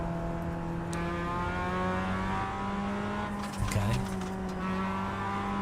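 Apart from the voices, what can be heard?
Mazda MX-5 race car engine and tires, iRacing video game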